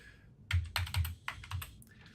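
Gibberish is typed on a computer keyboard in a quick run of about a dozen close, crisp key clicks in small clusters, with no talking.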